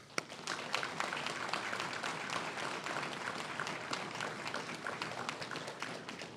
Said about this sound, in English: Ladies and gentlemen, please, a round of applause for all the service members who are represented today by all three commands.